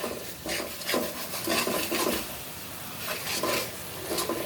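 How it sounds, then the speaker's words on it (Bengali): Masala for chicken curry being fried and stirred in a pan, with repeated scraping strokes of the spatula against the metal in a loose rhythm over a soft continuous sizzle, heard close up. "দেখো মশলাটা কষানো হচ্ছে মশলাটাকে আমি আরও একটু কষাবো"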